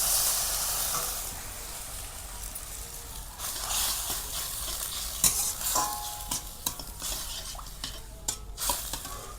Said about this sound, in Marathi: आता पाणी ओतून घेऊ आपण.